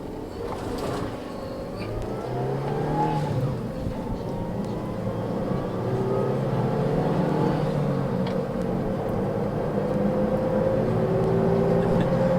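A 2005 Perodua Myvi with a manual transmission pulls away hard, its engine drone building steadily and staying loud and close throughout, with a rising whine layered over a continuous low rumble.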